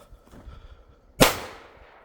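A single sharp firecracker bang, muffled by snow, after a moment of quiet rustling, with a short fading tail.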